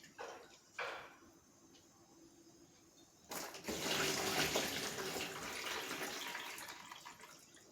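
Dal lentils are rinsed in water, starting with a few faint clinks and splashes before a steady rush of running, swishing water fills the rest, close and moderately loud.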